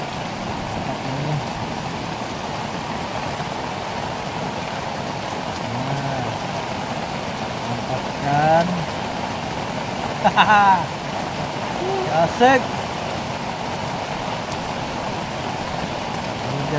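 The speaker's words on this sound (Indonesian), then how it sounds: "Hujan deras." Heavy rain pours over a simple garden plot, a constant broad hiss that fills the whole stretch, while a person speaks briefly and a few short squeaky sounds poke through.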